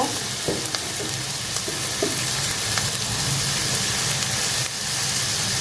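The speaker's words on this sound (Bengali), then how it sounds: "একটু ভাজবো। এটার মধ্যে এখন একটু হলুদ দিব," Bitter gourd and shrimp fry in hot oil with turmeric being added, giving a steady, close sizzle throughout with a few soft stirring clinks and scrapes rising above it.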